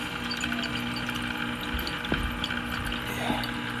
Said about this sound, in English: I'm going to fill it up with some water and give it the old college try.